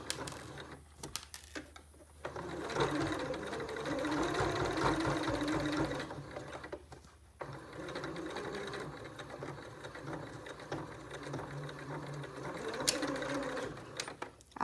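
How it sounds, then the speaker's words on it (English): A sewing machine stitches through thick layers of face mask fabric, its motor running loud and steady in long bursts with brief pauses between runs. "give them a little tug to get your machine going through these thick layers"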